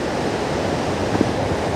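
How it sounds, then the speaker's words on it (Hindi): A waterfall in Eravikulam National Park, Kerala, rushes as a steady, broad wash of noise that stays close and constant throughout, with no voices. "इधर से वाटरफॉल हो रहा है"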